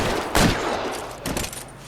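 Gunfire in a shootout in the video game L.A. Noire, a dense burst of rapid shots followed by a second volley, loud and close over a steady background rumble, with no speech.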